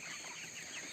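Young 22-day-old farm chickens cluck in a short, faint snatch of soft chirpy clucking with no talk over it.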